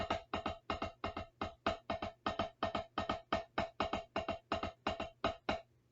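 A snare drum plays a steady double-stroke roll, evenly spaced paired hits repeating for several seconds, close and clear, alone with no voices.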